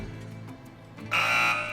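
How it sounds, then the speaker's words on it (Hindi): Quiz-show buzzers switched on: after a soft electronic tone, a loud, harsh, steady buzz sounds abruptly and holds for about half a second before easing slightly. "तो मैं बज़र्स एनेबल करता हूँ।"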